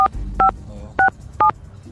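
Four short telephone keypad dialing tones beep in an uneven rhythm over a low background hum, each a crisp dual-pitched beep.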